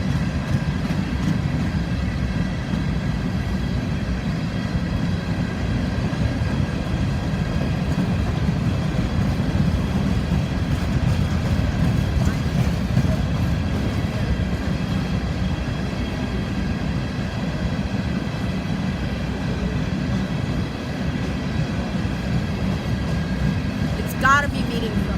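A slow, nearly mile-long freight train with about 434 axles rolls past steadily on the Florida S-Line, giving a loud, continuous low rumble of rail noise with faint clicking wheels throughout.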